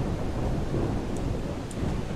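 Steady rain with a low rolling rumble of thunder in the zombie survival game Project Zomboid, a continuous wash of noise with no talk over it.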